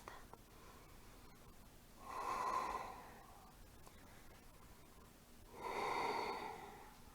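Slow, deep breaths during a standing yoga flow, two long airy exhales several seconds apart, close and soft against a quiet room.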